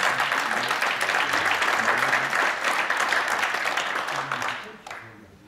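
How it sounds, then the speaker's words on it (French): Sustained applause from an audience, steady clapping for several seconds before tapering off at the end. "Je vous demande d'applaudir Yassine"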